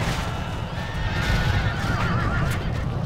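Horses neigh in a rising, wavering whinny during a cavalry battle in the strategy game Roma Surrectum 2, set against a dense, continuous roar of battle noise and faint hoofbeats.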